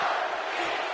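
A video game arena crowd from WWE 2K18, during a Money in the Bank ladder match, roars and chants in a steady, dense wash of voices that fills the whole moment.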